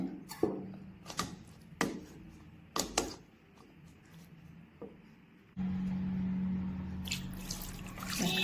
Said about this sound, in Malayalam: പിഴിഞ്ഞിട്ട് ഇതിലേക്ക് തണുത്ത വെള്ളം ഒന്ന് ഒഴിച്ചിട്ടൊന്ന് കഴുകിയെടുക്കാം